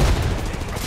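A grenade blast in the video game Apex Legends, a single loud boom with a rumbling low tail that fades over under a second.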